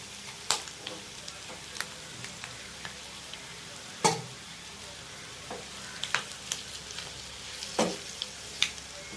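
Kerala-style clam meat roasting in coconut oil in a pan, a constant low sizzle punctuated by a dozen or so sharp clicks and scrapes of the spoon as it is stirred, close by and without talk.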